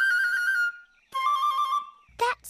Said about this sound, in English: That sounds like a bird.